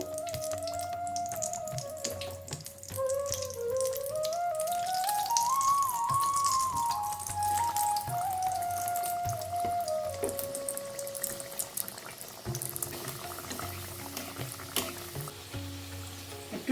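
Oil sizzles and crackles steadily for a long stretch as flower-shaped nimki snacks fry in hot oil, with a faint wavering whistle-like tone running through it and no voices.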